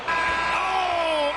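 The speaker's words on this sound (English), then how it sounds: "Oh, at the buzzer!" An arena horn sounds at the end of the first quarter of a Celtics–Hornets basketball game, one sustained, loud, steady blare of about a second over crowd noise.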